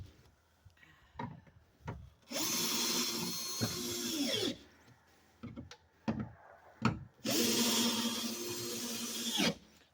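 A Torx 30 driver drives screws while a lockable storage toolbox is installed in an F250 truck bed. Two long, steady, loud whirring bursts of about two seconds each, separated by short knocks and clicks of handling.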